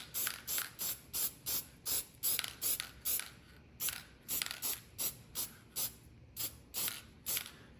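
Short bursts of aerosol sealant sprayed over an engine cylinder head around the timing chain rail, a dozen or so evenly spaced hissing puffs in steady rhythm, close and clear with no talking.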